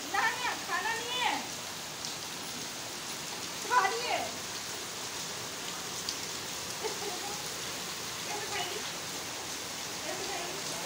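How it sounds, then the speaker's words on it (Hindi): First monsoon rain falling, a steady dense hiss of rainfall throughout, with a child's and an adult's voices speaking intermittently over it. "आज मानसून की पहली बारिश और काफ़ी अच्छी बारिश हो रही है"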